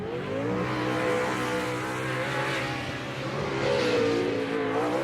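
Off-road race truck engine roaring during a TORC race at Primm, a steady loud harmonic drone that rises and falls with revving, the strongest surge near the end, with no talk over it.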